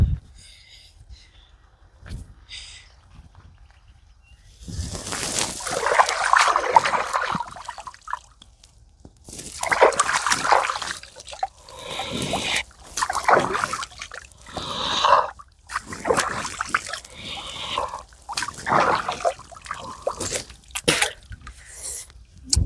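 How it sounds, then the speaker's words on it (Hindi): Water from a pond splashes in several separate bursts of sloshing and dripping, fairly close, with quiet pauses between them and no talking. "गाइस, मैंने पानी पी लिया।"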